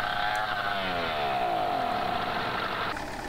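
A crawler tractor engine straining under a heavy towed load in Farming Simulator 2013, giving a steady droning hum whose pitch sweeps and shifts as it pulls, continuous and fairly loud.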